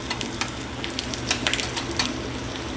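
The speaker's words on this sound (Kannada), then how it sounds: "ಇದು ನೀರುಳ್ಳಿ ಮತ್ತು ಬೇವಿನ ಸೊಪ್ಪಿದ ಒಗ್ಗರಣೆ" Chopped onion and neem leaves crackle and sizzle steadily in hot tempering oil, a close, continuous fry with scattered sharp pops and no talking.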